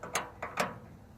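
A half-inch ratchet wrench loosens a bolt on a Yardmax 6.5 hp wood chipper, giving three sharp, close metallic clicks spaced over about a second, with quiet in between.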